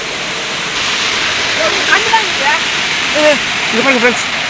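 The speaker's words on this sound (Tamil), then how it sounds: "தண்ணி போகுது சத்தம் கேட்குங்களா உங்களுக்கு" Loud, constant rushing of a flowing river fills the scene during a fishing trip, with voices talking and calling over it.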